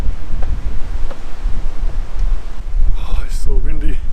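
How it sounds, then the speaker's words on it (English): Wind buffets the microphone in continuous low gusts at a castle ruin, with a brief burst of high, wavering sound near the end. "Oh, it's so windy."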